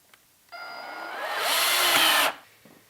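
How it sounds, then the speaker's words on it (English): A power drill boring holes for faux wood blind brackets into half-inch sheetrock, one steady whirring run of about two seconds that rises in pitch and load, then cuts off, close and clear. "we will drill the two holes in using a drill"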